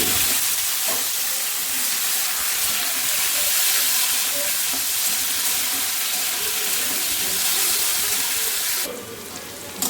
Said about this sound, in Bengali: করলা আলু হালকা ভাজা হয়ে গেছে